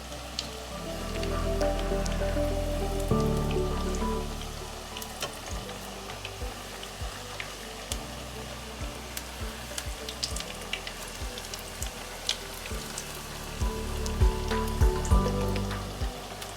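Noodle pakoras fry in hot oil as they are turned over, giving a steady low crackle and bubbling with scattered sharp pops and spatters, moderately loud and close, with no talking.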